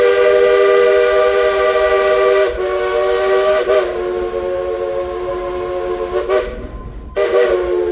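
A steam train's whistle blows long, loud tones as the train moves through an amusement park, pausing briefly a few times before sounding again.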